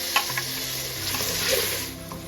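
Onions fry in a pan for sultani dal as ginger garlic paste is added and stirred in, giving a steady close sizzle with light scraping stir sounds over it and no talking.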